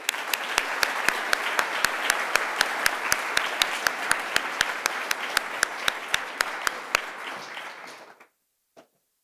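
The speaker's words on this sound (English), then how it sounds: "Let's give all of these students a round of applause." Audience applause for award-winning sixth-grade students at a school awards ceremony, a full room clapping steadily for about eight seconds with a few loud nearby claps standing out, then stopping abruptly with one stray clap after.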